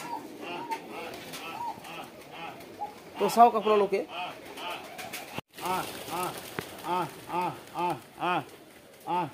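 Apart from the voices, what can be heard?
pigeons at a farm eating grain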